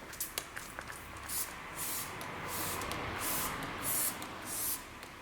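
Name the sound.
Marc Jacobs coconut mist setting spray being sprayed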